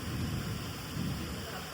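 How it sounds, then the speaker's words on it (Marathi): Heavy rain pours in a steady broadband roar with low rumbling thunder rolling underneath during an evening storm at a village gathering, loud and continuous. "गडगडतोय पाऊस"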